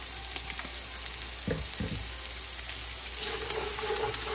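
Ten ounces of julienned carrots and a full head of sliced celery go into a hot pan, producing a soft continuous sizzle with a couple of brief thuds as the vegetables drop in.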